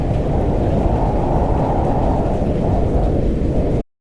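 Steady, loud rain pours outside in a cold, wet, swampy climate, a dense broadband wash with low rumbling thunder mixed in throughout, cutting off abruptly at the end.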